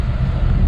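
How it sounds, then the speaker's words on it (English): Strong sea wind buffets the microphone on a boat coming into the port of Praia, a loud, low, continuous rumbling roar. "It's unbelievable how this wind blows here."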